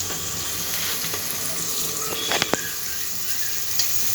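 Food fries and sizzles in a pan during cooking for aloo matar, the steady hiss broken by a few sharp clinks and scrapes of stirring.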